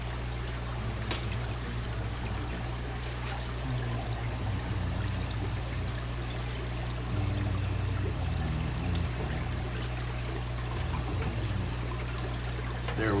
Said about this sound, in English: Spitting water through there.